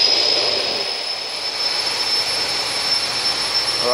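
A home-made line boring machine, its shaft turned by a hydraulic motor through a small gearbox, runs with a loud, steady mechanical roar and a constant high whine, unbroken and without talk.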